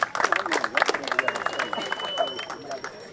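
A crowd applauds and cheers after a rap battle, loud uneven bursts of clapping mixed with shouts and babble, fading slightly toward the end with a faint whistle-like tone.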